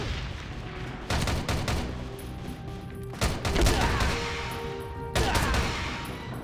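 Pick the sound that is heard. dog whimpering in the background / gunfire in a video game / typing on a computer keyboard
gunfire in a video game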